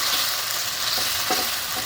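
Ginger garlic paste frying in a pan with chopped onions, a steady close hiss of sizzling oil with a few soft stirring scrapes toward the end.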